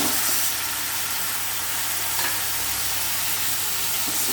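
Tomato and brinjal sautéing in a pan for veg biryani, a loud, dense, unbroken sizzle close by with faint stirring underneath.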